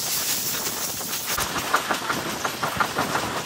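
A MEMU passenger train runs on rails between Rajahmundry and Vijayawada, heard from on board. A steady rumbling roar carries faint rhythmic wheel clicks and a thin high whine, with no talk.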